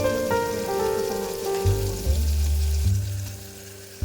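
Carrots and mixed vegetables fry in a pan for vegetable pulao, a steady close sizzle with a louder burst of crackling about midway as the pan is stirred, continuing until the end.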